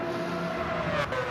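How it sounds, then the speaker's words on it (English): A race car in a racing game grinds its engine under a tire squeal as it hits a barrier and spins, with a steady loud tone and a brief scraping burst partway through. "Staffy hits the barrier, spins it round"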